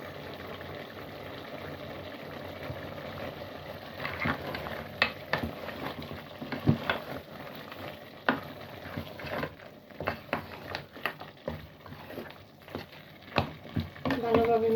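A spoon stirs and mixes cabbage and meat curry in a pan, with irregular scrapes and clacks against the metal over a soft, steady simmering bed, growing busier toward the end.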